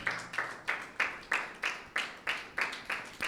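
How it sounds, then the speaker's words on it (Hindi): Congregation in a church service clapping loudly and in a steady beat for the Lord, about ten sharp, even claps in quick succession with no voices over them. "एक बार फिर से खुदावंद यीशु के लिए तालियां बजाएं, जोरदार तालियां बजाएं खुदावंद के लिए।"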